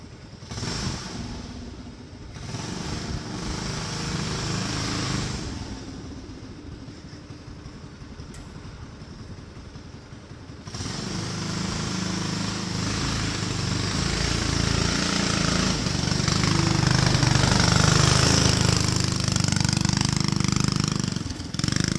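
A homemade vehicle, still missing welded-in seats, runs its engine on a test drive: a rough idle first, then a louder, steady motor drone as it pulls away and keeps running, close by, with no talking.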